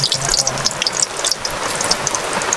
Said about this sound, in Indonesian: Dan kita goreng dulu terong.